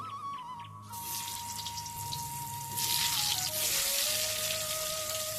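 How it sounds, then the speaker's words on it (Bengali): Potatoes fry in mustard oil in a hot kadai for a Bengali egg and potato curry, a steady hiss that begins after a second and grows louder partway through, with a faint tonal hum underneath and no talking. "প্রথমে আলু ভেজে নেব"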